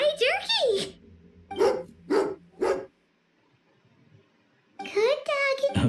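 A dog in Genshin Impact gives a yip and a run of sharp barks, loud and close, then falls silent before another burst of yapping.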